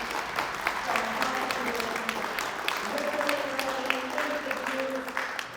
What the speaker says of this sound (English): A round of applause to Mr. McKenzie.